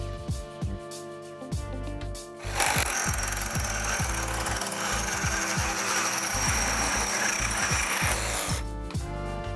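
A Ryobi reciprocating saw with a 10-pound weight on it cuts through wood, a loud, steady rasping buzz that runs for about six seconds after a few short starts, then stops abruptly.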